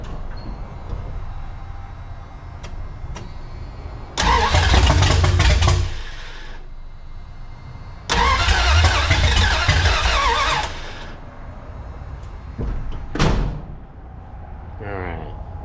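A 1981 Dodge D150 pickup's engine, its choke suspected of causing trouble, cranks and roars to life twice in loud bursts of about two seconds each, sputtering out between attempts, with quieter idle-level noise around them.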